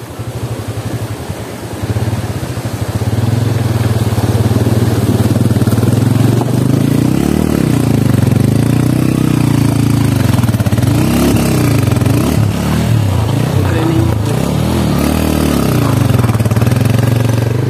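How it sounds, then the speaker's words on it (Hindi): Motorcycle ridden through a village stream on the way to a market in Allai Valley, its engine loud and close, revving and labouring unevenly for the whole run after a brief quieter start. "बहुत मुश्किल से गुजारी है मोटरसाइकिल"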